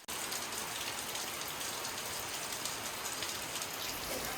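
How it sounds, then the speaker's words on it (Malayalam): Heavy monsoon rain falling outside, a dense, steady hiss of drops on surfaces filling the whole stretch without pause, close and fairly loud. "അതുപോലെ പുറത്ത് നല്ല മഴ പെയ്തുകൊണ്ടിരിക്കുകയാണ്."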